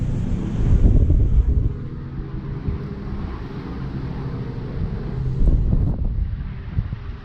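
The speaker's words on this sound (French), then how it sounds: "C'est venteux." Wind gusting across a microphone outdoors at night during a road trip from Montreal to Florida, a steady rumbling roar that swells loudest near the start and again toward the end, with no talking.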